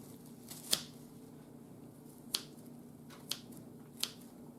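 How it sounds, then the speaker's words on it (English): Scissors snip through hydroponic wheatgrass grown as cat grass, four crisp separate cuts spaced irregularly, close and fairly quiet over a low steady background hum. "I'm just going to grab it and go ahead and try to cut it nice and even"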